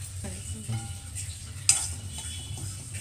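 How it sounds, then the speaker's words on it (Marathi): White sesame seeds dry-roasting over medium heat in a pan, stirred steadily with a soft continuous scraping rustle and one sharper clink midway, close and fairly quiet with no voices. "तीळ हलवत राहायचे, आपल्याला करपू द्यायचे नाहीत"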